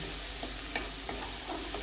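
Steady frying sizzle of masala sautéing in oil for chole gravy, with faint clinks of a spoon stirring in a pan, continuous and close, no voices.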